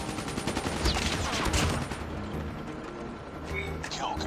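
Rapid KN-44 assault rifle fire in a first-person shooter video game, dense automatic bursts in the first two seconds and again near the end, layered with game effects and background voice chatter.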